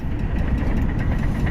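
A Harley-Davidson Heritage Softail Classic FLSTC with a 103-inch fuel-injected V-twin and 6-speed transmission runs at idle, a loud, close, steady low rumble with no talk.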